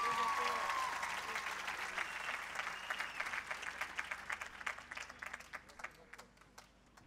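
An audience applauds at a university graduation ceremony in Lebanon. The dense, steady ovation opens with a faint tone, then thins into distinct, separate claps that gradually fade.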